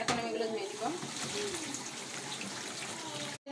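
Broiler chicken pieces are rinsed under a running tap of warm water, a steady close splashing stream with a brief voice near the start.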